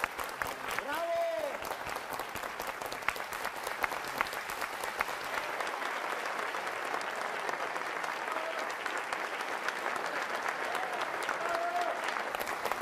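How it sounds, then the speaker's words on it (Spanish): Audience applause from a crowd, steady dense clapping sustained throughout at moderate level, with a voice briefly audible over it near the start and again near the end. "Ya tienes muchos que te aplauden."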